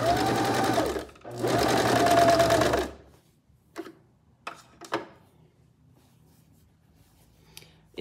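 A sewing machine runs in two bursts of rapid mechanical whirring while top stitching fabric on a long stitch setting, followed by a few faint clicks and taps.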